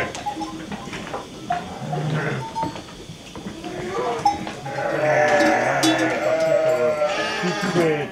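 Sheep and lambs bleat repeatedly inside a barn, several overlapping calls from animals nearby and farther off, growing busier toward the end over a low background murmur.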